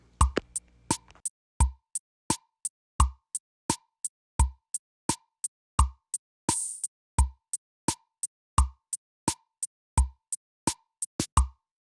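A simple drum beat programmed in GarageBand on an iPhone plays alone, with a steady pattern of sharp kick and snare-like hits about twice a second and one brief cymbal splash midway.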